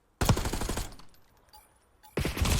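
Rapid bursts of gunfire from a competitive shooter video game, loud and close, come in two dense volleys split by a quieter gap.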